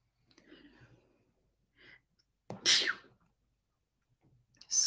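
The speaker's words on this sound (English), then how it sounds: "I think I have to sneeze." One sharp, close sneeze bursts out after a few soft breaths and faint murmurs, followed by quiet and a second short breathy burst at the end.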